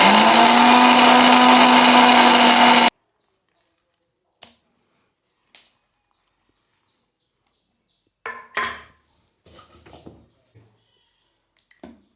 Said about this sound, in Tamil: வெங்காயத்தையும் போட்டு அரைச்சிடலாம்